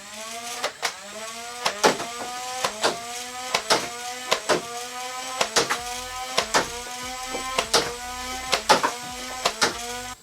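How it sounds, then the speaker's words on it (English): A Nerf Modulus blaster's flywheels whine as they spin up, each rev followed by a sharp snapping shot, repeating in a steady rhythm of roughly two dozen close, clear firings. "I have to wait for the flywheels to rev up before firing"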